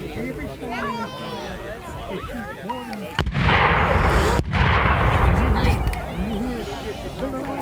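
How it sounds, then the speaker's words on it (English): At a Civil War battle reenactment, the Battle of Aiken 2024, reenactors fire cannons. One loud booming blast lands midway, then a second sharp report and a lingering rumble, with excited nearby voices talking before and after. "And they fire their cannon off both sides."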